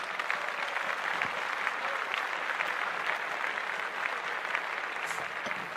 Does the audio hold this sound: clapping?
yes